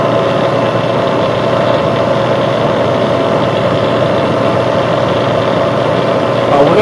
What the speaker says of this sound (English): So let's go ahead and turn the machine on here.